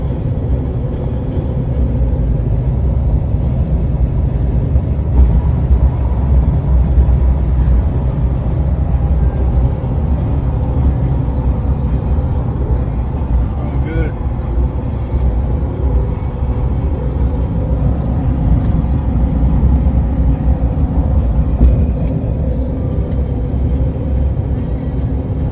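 A L5P Duramax truck accelerates onto the freeway, its steady low engine and road rumble holding loud and even throughout, with faint wind and passing traffic noise on top.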